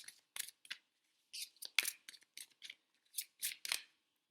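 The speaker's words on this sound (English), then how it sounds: "so for clarification, validation, or additional information, we are pulling a few other cards." Angel Tarot cards pulled from a deck and laid down, giving soft, crisp swishes and snaps in irregular bursts, close and quiet, with no talking.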